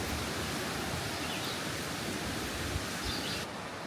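A steady, broad rush of falling water, constant and even throughout, like a waterfall heard from some distance beside a river.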